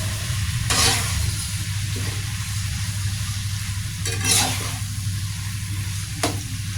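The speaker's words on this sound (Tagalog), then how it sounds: "ilagay na rin natin yung ampalaya at saka natin ito uli haluin" Bitter melon (ampalaya) is stirred in a frying pan. An even, fairly loud sizzle holds steady, broken by three brief bright scrapes of the utensil against the pan, with no talking.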